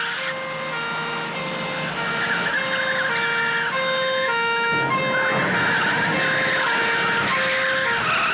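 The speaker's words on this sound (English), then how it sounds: "we're going to nick and let that police car through" A police car siren wails through a busy street scene in a 1983 comedy, loud and close, its two-tone pattern cycling steadily over engine and traffic rumble for the full stretch.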